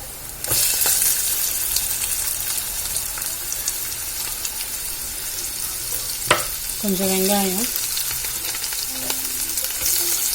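Steady, loud sizzling of onions frying in a pan with stirring scrapes, a brief clatter partway through and a short faint voice-like tone.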